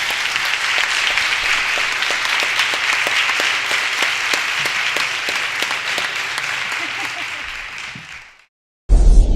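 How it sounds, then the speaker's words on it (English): Audience applause at a media event, steady and loud with dense clapping for about eight seconds before cutting off abruptly, then resuming briefly. "I would like to give them a rousing applause for their work here today"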